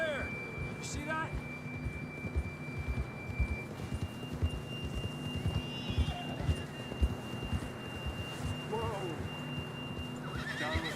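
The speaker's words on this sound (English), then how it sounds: "John was riding that horse when we left Blackwater." Horses in the video game Red Dead Redemption, with rhythmic hoofbeats and neighs set against a game soundscape with thin tonal notes, fairly quiet, and voices calling out briefly over it.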